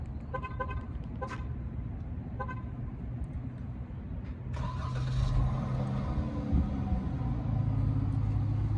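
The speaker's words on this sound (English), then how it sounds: "here go the cold start right here" A Chrysler 300C's engine cranks on a cold start and fires up midway, settling into a loud, steady low rumble after some quieter clicking and background noise.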